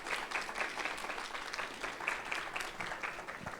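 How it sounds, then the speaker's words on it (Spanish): An audience at a book fair lecture applauds the speaker with steady, moderately quiet clapping that swells and eases slightly throughout the short stretch. "pedirles otra vez un aplauso"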